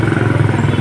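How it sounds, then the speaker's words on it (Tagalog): The ABS pump motor on a Yamaha Nmax v1 scooter runs after repair, making a short, close, rhythmically pulsing mechanical buzz with slight clatter, and no voices. "Ibig sabihin gumagana na yung motor niyan. Motor ng ABS."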